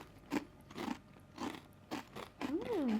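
Thick, crunchy cassava chips are bitten and chewed up close, giving a series of sharp crunches in an irregular rhythm, fairly quiet overall.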